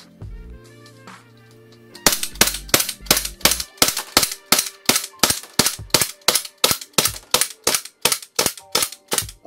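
CANiK TP9 Elite Combat airsoft gas pistol firing BBs, about twenty sharp loud snapping shots in a fast, even rhythm, close and alone, preceded by a brief quiet rattle.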